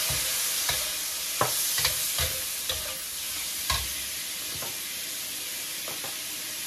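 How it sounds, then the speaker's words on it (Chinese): Chestnuts and pork stir-fried in a wok over high heat, a steady loud sizzle with periodic scraping clanks of the spatula against the pan. "开大火炒"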